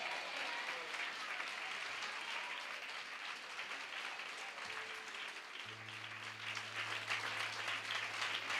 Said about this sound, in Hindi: जोर से ताली बजाएं, जोर से ताली बजाएं